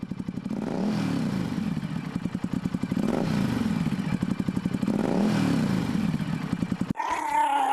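A motorcycle engine idles and revs in repeated swelling bursts, a steady throbbing mechanical drone that rises and falls about every two seconds, close and continuous, then cuts off abruptly near the end.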